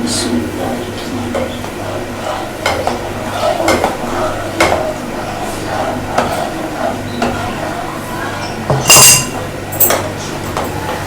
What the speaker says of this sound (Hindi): साथ साथ मैं चम्मच भी चलाती जाऊंगी